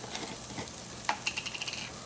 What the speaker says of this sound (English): we're going to go ahead and add a little bit of garlic into the pan